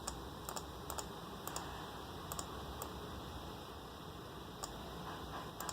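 Someone types on a computer keyboard, a quiet room carrying soft irregular key taps with a few sharper clicks spread across the stretch, close but faint, with no talking.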